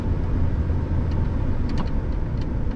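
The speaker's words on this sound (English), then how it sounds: "And I can hear that I'm scraping the blacktop." A snow plow truck clearing a commercial parking lot in Spooner, Wisconsin rumbles steadily as its blade scrapes the blacktop beneath, a dense, continuous grinding roar heard close up from inside the cab.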